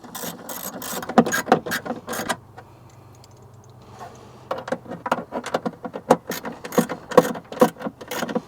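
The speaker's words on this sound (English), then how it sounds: "So now I'm going to tighten down this one, you know, the one with the deep well, then these two 10 millimeters here." A ratchet with a deep well socket tightens intake bolts on a 2020 Silverado's cold air intake, making rapid bursts of close, crisp clicking. The bursts are separated by a short quiet pause.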